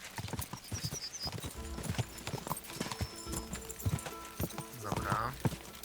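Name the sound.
horse hooves galloping in Kingdom Come Deliverance 2 video game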